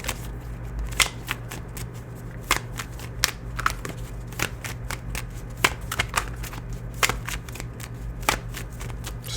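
Tarot cards being shuffled by hand in a quiet room, a steady run of soft riffling with sharp crisp snaps at irregular intervals and no talking.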